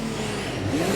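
The Le Mans race car number 7 drops off its jacks and pulls away from the pit box, its engine rising in a loud, smooth revving whine as it accelerates toward the pit exit.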